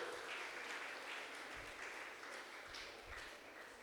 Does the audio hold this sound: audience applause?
yes